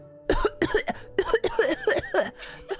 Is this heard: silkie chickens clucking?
no